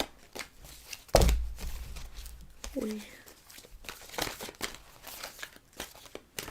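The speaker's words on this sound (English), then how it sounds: "Let me get a couple more cards." Tarot cards being drawn and handled produce scattered crinkling and sharp papery snaps, with one loud crunchy burst early on among softer rustles, while a person speaks quietly in between.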